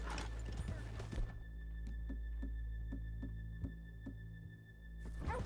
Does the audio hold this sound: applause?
no